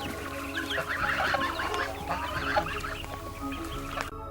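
Several chickens cluck and chatter continuously at close range at an arboretum farmyard, a busy overlapping flock over a low steady background hum.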